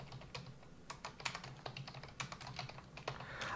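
Quick typing on a computer keyboard at a Linux terminal, irregular clusters of crisp key clicks close up and quiet, with no talking.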